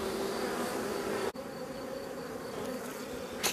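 Honeybees hum around a hive that has just swarmed, a continuous close buzz with a steady tone, briefly broken by a sharp click midway.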